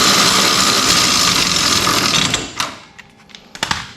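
A trailer or caravan stabilizer arm is wound out with a crank, giving a rapid, continuous metallic ratcheting whir for a couple of seconds, then a few separate clicks and clunks as it stops, heard close up with no talk.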